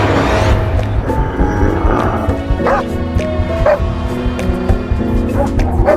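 Several dogs bark, yip and whimper excitedly while confronting sea lions, the barking loud and close in repeated bursts over a noisy outdoor background.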